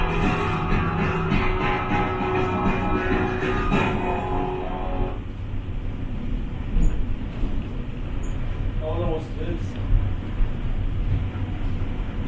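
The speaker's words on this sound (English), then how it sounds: "The tram is slowing down." Steady rumbling of the Luxor-Excalibur tram in Las Vegas in motion, with a tonal whine that drops away midway as the vehicle slows; no talking.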